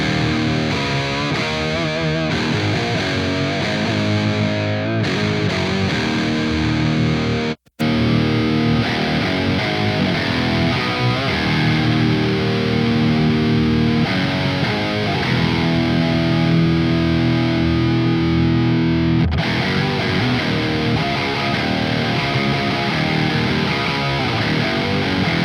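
An electric guitar played through the Neural DSP Archetype Gojira plugin with its octave effect on rings out thick, heavily distorted and loud, with sustained riffs and chords that stop briefly once, no talking.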